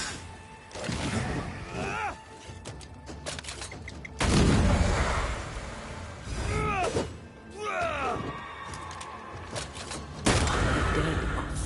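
A corpse enemy fires shots in Banishers, several loud booming blasts spread across the clip amid game ambience, with character voices between the bursts.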